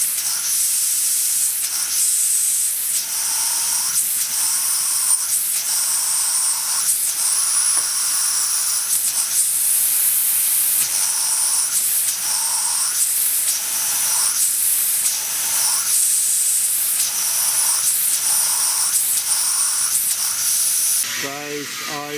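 A homemade vertical steam engine hisses steadily and loudly as steam leaks through it, with faint rhythmic chuffing pulses as it struggles to run, close and continuous throughout.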